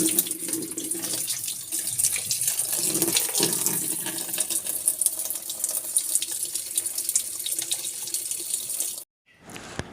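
Water runs steadily into an automatic washing machine as it fills, a continuous splashing rush that holds for about nine seconds, then stops abruptly and resumes faintly.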